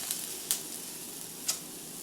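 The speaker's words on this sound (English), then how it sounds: "you can hear it sizzling." Steady broadband sizzle of venison sausage mix frying in a pan, with a few faint clicks and ticks popping over the constant hiss.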